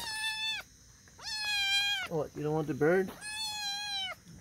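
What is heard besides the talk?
kitten meowing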